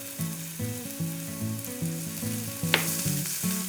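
Shallots sizzle in a pan with paprika powder and tomato paste, a soft steady frying hiss sitting under louder melodic background music, with one brief sharp clink near the end.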